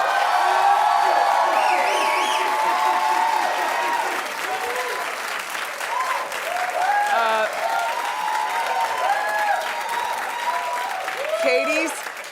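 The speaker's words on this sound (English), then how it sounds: "Keep clapping for Katy Perry." A talk-show studio audience claps and cheers, with scattered whoops rising above the thick, sustained applause, which dips slightly midway and then swells again near the end.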